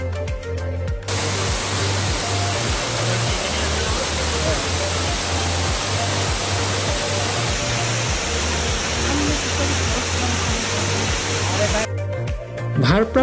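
Tarte waterfall in Bandarban pours as a thick, continuous roar of water for most of the stretch, loud and near, layered with a low rhythmic musical pulse and a voice talking over it.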